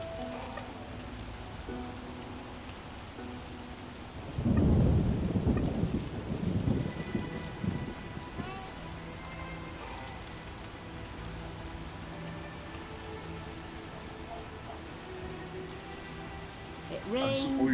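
Rain and thunder from the video game The Witcher: steady rain patters throughout while a loud rumbling thunderclap rolls in partway and slowly dies away, with faint game music and sounds underneath.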